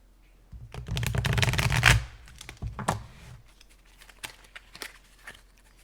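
Close, papery shuffling of an oracle card deck, a dense riffle followed by scattered soft slaps and taps as cards settle.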